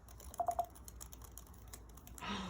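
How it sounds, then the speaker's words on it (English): A short burst of light key clicks from an M1 MacBook Air keyboard, a few quick taps close by, followed by a soft rustle. "Let's see how this typing is."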